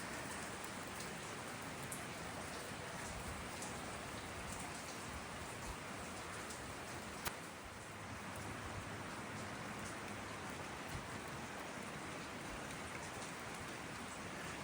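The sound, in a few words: rain falling at Waterfront Park pier, Orange Beach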